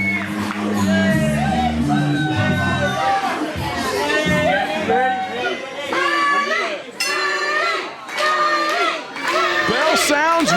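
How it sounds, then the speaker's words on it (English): A wrestling crowd at a CWF Mid-Atlantic show roars and shouts loudly for Snooty Foxx, a dense, sustained wall of cheering with whoops rising and falling under a commentator's voice. "did you hear this crowd come completely unglued for Snooty Foxx?"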